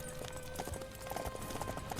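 Horse hooves galloping in the video game Samurai Warriors 5, a quick steady clip-clop rhythm mixed into busy, fairly quiet battle ambience.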